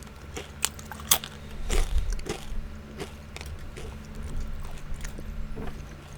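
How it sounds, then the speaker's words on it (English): Close, crunchy biting and chewing of food during an Overwatch game session, with irregular crisp bites and soft mastication over a low background hum. "Sorry about munching while playing."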